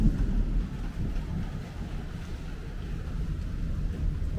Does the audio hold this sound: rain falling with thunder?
yes